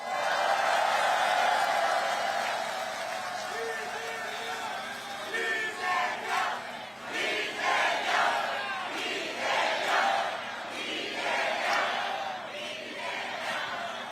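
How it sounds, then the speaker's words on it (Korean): A political rally crowd in Gyeyang, Incheon breaks into clapping and cheering with scattered shouts, a dense wash of applause that rises and falls while a voice speaks over a loudspeaker. "동지들에게 박수 한번 보내주세요."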